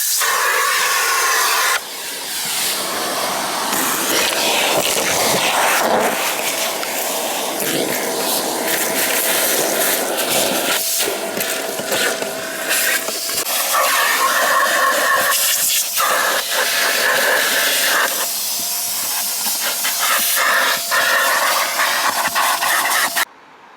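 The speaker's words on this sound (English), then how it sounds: "I'm going to hoover up and..." Vacuum cleaner hoovering a dirty car interior, a loud continuous hissing roar close to the listener, with the pitch shifting now and then as the nozzle moves and cuts off sharply at the end.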